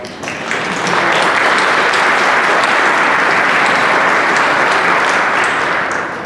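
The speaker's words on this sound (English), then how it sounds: "could you just give them a round of applause?" A crowd at a special town meeting in Scituate gives a round of applause for volunteers, loud sustained clapping that swells in within the first second and holds steady to the end.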